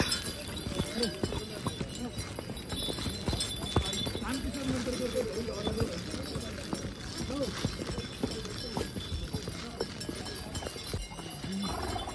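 Horse hooves clip-clop along a mountain trail between Kedarnath and Chopta, a steady plodding rhythm running throughout under people talking and outdoor background noise.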